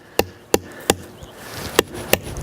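A hammer drives a staple into the wooden brace of an H-brace doorway in a fence, six sharp, evenly spaced strikes ringing out close and loud with short pauses between them.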